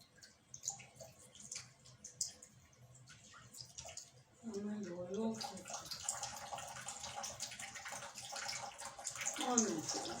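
Water running from a tap while hands are washed, a steady splashing flow that starts partway through and continues, with voices talking over it.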